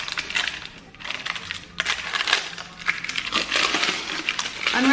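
A Dyson Airwrap attachment being unwrapped gives close, loud crinkling and rustling of packaging with scattered clinks, continuous and fairly busy throughout.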